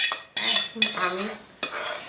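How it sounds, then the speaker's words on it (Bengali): Cooked raw mango is poured through a strainer into a pot in a few close, bright bursts of clattering metal and scraping, with brief pauses between pours. "একটা ছাঁকনি নিয়ে আমি এই আমগুলোকে আবার এই পাত্রে ঢালছি।"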